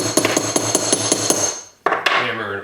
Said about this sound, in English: Hammer it over.